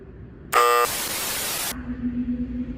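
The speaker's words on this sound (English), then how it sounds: "I'm gonna turn this buzzer on, see if it screams at me" A harsh electric buzzer at the Georgetown Steam Plant starts abruptly with a sharp tonal burst, then becomes a loud, flat noise-like drone for about a second before cutting off.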